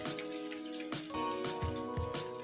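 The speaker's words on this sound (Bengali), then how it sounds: "এবার গাঠি কচুগুলো আমি এর মধ্যে ফ্রাই করে নিচ্ছি" Pieces of gathi kochu (taro) fry in a pan with turmeric and salt, giving a steady crackling sizzle beneath soft background music, punctuated by a few louder pops and spatters.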